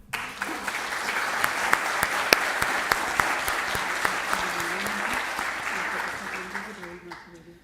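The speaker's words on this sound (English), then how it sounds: "So let's all give them a big applaud." An audience at the BioAg Asia 2022 agriculture event applauds steadily throughout, a dense, sustained wash of clapping from a large crowd that fades slightly at the end.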